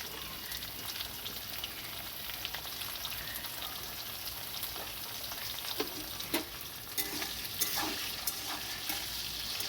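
Potatoes and taro fry in a pan in a Bengali village kitchen while a spatula stirs them now and then, a steady crackling sizzle with sharper scraping strokes toward the end.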